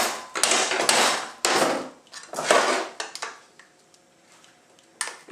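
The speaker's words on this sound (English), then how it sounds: "I'm going to just tap it with my hammer to see if I can get behind it" A hammer taps on a 45RFE transmission part during a teardown, giving several sharp metallic knocks in quick bursts, close and fairly loud, followed by a few lighter clinks.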